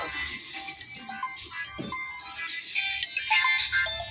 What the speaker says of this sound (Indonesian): monggo ada telepon masuk